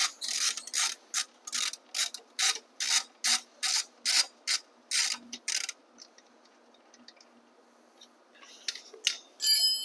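A socket wrench with a 17mm socket removes an axle nut while the axle is held with a 6mm hex key during a brake guard install. It gives a close, rapid series of crisp ratchet clicks in regular bursts, then sparser faint ticks and clinks.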